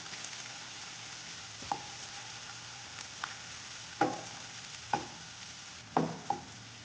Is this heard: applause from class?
no